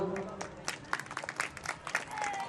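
An audience at a santvani dayro gathering gives Umeshbhai Ustad a short, scattered burst of clapping, irregular and fairly faint, with a voice carrying on underneath.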